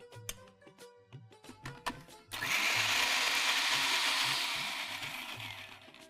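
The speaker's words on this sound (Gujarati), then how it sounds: "હવે આને આપણે મિક્સરમાં પ્યુરી કરી દઈએ" A mixer grinder whirs steadily as it purees tomato with garlic, starting after a few light knocks and clatters and running loud and continuous to the end.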